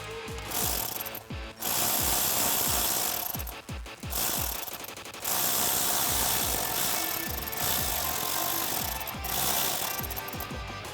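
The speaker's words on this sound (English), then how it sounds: "we're going to tighten it down with our 8mm socket." A ratchet with an 8mm socket tightens an intake clamp on a Toyota Tacoma cold air intake with a cotton filter, giving rapid, close clicking bursts that run for several seconds with short pauses between them.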